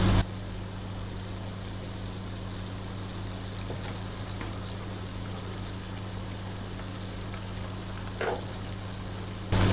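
Crispy battered shrimp fry in hot oil, giving a steady, even sizzle with a low background hum, continuous and moderately quiet, with no one speaking.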